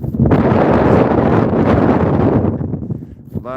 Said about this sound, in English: and it's freaking windy.